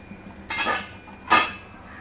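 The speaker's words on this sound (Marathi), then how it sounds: "आपण याच्यावर झाकण ठेवून याला एक पुन्हा थोडा वेळ शिजत ठेवणार आहोत" Metal lid set onto a cooking pot of carrot kheer, two brief clattering contacts about a second apart, fairly close with no talking.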